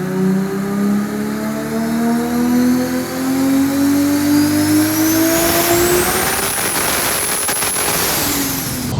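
A Nissan GT-R drag car with a 3.2 litre engine revs up loudly, rising pitch climbing over several seconds, then a turbo whistle and rough crackling roar as it launches, heard alone and close.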